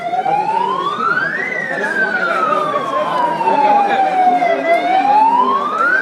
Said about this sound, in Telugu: ప్రజలు అప్రమత్తం కావాలని ఈ సైరన్